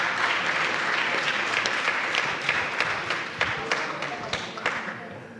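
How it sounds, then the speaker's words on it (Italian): Audience applause at an Italian award ceremony for the Premio Ozieri, a steady broadband clapping from a sizable crowd that runs throughout, with a few sharper individual claps standing out near the end. "Un applauso"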